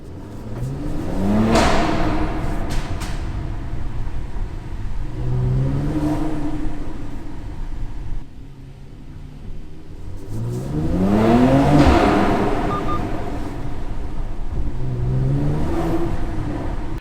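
A 2019 Mercedes-AMG C43 engine revs hard in an underground car park, several loud rising bursts echoing off concrete, with a brief dip to idle between pulls.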